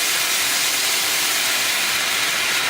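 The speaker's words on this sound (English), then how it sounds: "I am just going to deglaze that pan with a little bit of sparkling white wine" A pan being deglazed with sparkling white wine while cooking mahi mahi, a loud continuous close sizzling hiss with no pauses and no talk.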